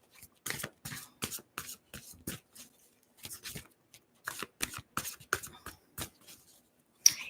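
A deck of playing cards being shuffled during a live stream, a run of quick, crisp riffling bursts in short rhythmic bouts with brief pauses between them, close and clear, ending in a sharp snap.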